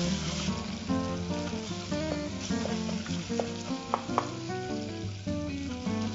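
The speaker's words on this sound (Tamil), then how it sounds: "இப்போ வெங்காயம் வதங்கிட்டு இருக்கு இல்லையா" Onions frying in a pan for Chettinad chicken biryani, a steady dense sizzle with occasional stirring clinks and scrapes throughout, close and continuous with no talking.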